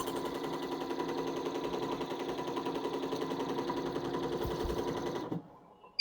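A home sewing machine stitching with zari thread runs in a fast, steady mechanical rattle for about five seconds, close and even, then stops abruptly.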